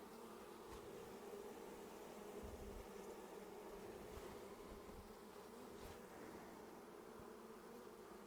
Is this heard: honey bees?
yes